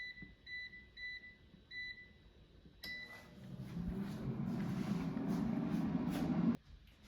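Air fryer set to 400 degrees Fahrenheit with a basket of ring bologna: a few short, clear electronic beeps at the panel, then a click as the fan and heater start into a steady, moderately loud whirring hum that runs until it cuts off abruptly.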